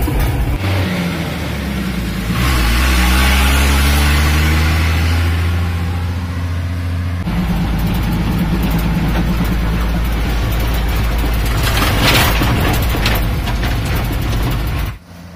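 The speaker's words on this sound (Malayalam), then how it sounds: "നമ്മുടെ ഈ വാഹനത്തിൻ്റെ ആ സൗണ്ട് എൻജിൻ്റെ സൗണ്ട് അടിപൊളിയായിട്ടുണ്ട്" The diesel engine of an Ashok Leyland Bison 1611 truck runs steadily and loudly for the whole stretch. A revving rise early on settles into a constant drone.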